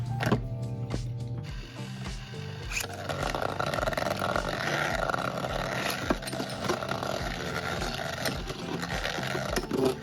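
Beyblade tops battle inside a motorized stadium that spins right, giving a steady whirring motor drone with rattling, scraping spin noise and a few sharp clacks of collisions near the start.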